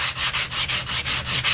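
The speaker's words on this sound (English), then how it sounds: "I'm taking 40 grit on just a little sanding block and just" Rhythmic sanding of a wooden bevel with 40-grit paper on a small sanding block, close and loud, with quick back-and-forth rasping strokes in steady succession.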